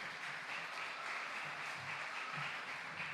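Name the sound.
church congregation applause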